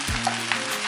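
Chinese-style fried rice sizzles in a hot pan, a short burst of steady frying hiss with a couple of light stirring clinks, close and fairly quiet.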